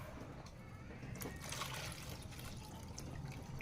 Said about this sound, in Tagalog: Tanggalin na po natin yung tubig niya.